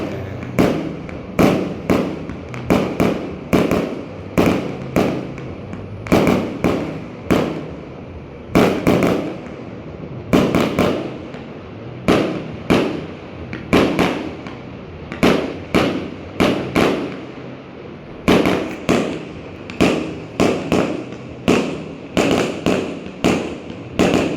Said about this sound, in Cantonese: 應該係2套煙花嚟嘅